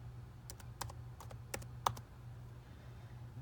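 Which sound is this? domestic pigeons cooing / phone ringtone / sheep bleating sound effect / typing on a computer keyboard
typing on a computer keyboard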